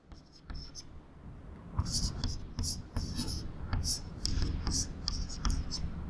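Pen or marker writing out a Class 8 rational-numbers fraction problem, heard as soft, scratchy strokes in short bursts with a faint background murmur. The strokes arrive unevenly, close and at low volume.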